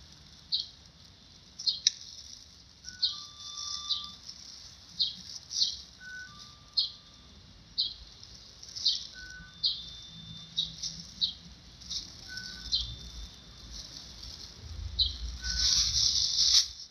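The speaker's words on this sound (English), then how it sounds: "Hear the birds?" Small birds chirp outdoors in short, repeated high calls spread evenly through the scene, with a faint low rumble building toward the end.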